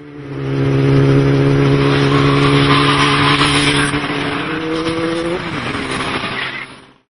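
A Ferrari FF engine revving loudly and close, a sustained droning roar with steady harmonics that rise briefly before dropping off near the end, followed by a tapering fade, with no voices.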